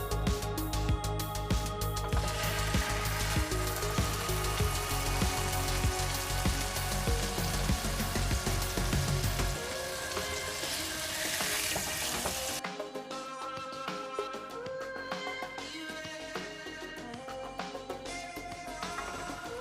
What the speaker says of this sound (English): start cooking these steaks on a frying pan with butter